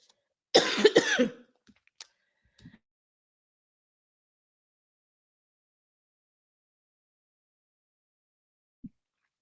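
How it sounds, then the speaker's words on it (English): A short burst of coughing up close, a couple of rough hacks in quick succession, followed by a few faint clicks and long stretches of quiet. "Sorry, y'all. Coughing."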